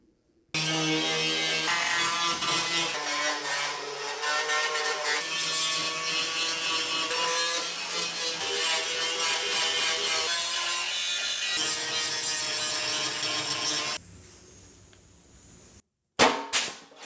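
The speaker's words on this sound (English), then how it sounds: "start grinding up all the sections that are going to start getting cleaned up and welded up" A grinder works over floor pan sections of a 1976 Trans Am under repair, a loud, harsh, continuous close-up whir with shifting pitch that runs for several seconds, then cuts out and leaves a few brief knocks.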